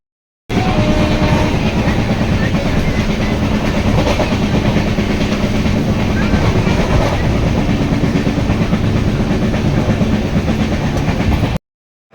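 A train rides toward Chennai Central, a loud, continuous rumble and rhythmic clatter of wheels on rails lasting about eleven seconds before cutting off abruptly.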